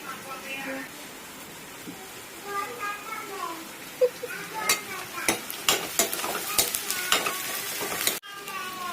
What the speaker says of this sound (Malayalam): നന്നായിട്ട് മൂത്ത് മണം വരട്ടെ.